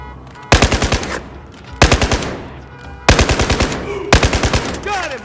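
Bursts of automatic gunfire in the video game Battlefield 4 come in four rapid volleys, loud and close, with short gaps between them.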